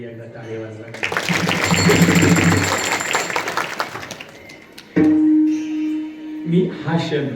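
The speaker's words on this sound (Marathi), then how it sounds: "सत्कार केला त्यांच्यासाठी एकदा टाळी वाजवा." An audience breaks into a few seconds of clapping at a Marathi devotional kirtan gathering, mixed with a speaker's amplified voice and some music.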